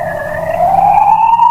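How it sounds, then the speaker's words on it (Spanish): An ambulance siren wails with a rising, steady tone that grows louder as it nears, heard indoors during a conversation, loud and with no talk over it. "Es la ambulancia"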